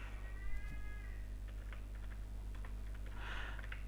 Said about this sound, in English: And now my cat is screaming.